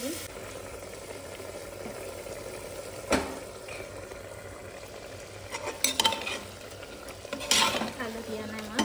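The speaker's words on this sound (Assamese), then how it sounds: "সেইকাৰণে অকণমান পানী দিম।" Curry frying in a pan as a splash of water goes in, with a low bubbling sizzle, occasional clinks of a spoon against the pot, and a couple of sharper bursts.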